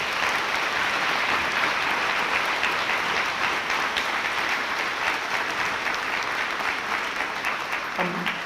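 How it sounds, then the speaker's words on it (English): Sustained applause from a crowd at a school dedication ceremony, a dense steady wash of clapping that holds at constant loudness for the whole stretch, with a brief voice emerging near the end. "can we give all of those folks a wonderful round of applause?"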